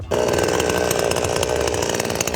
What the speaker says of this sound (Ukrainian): І зараз спробуємо ще грубше дерево і вже бензиновою пилою.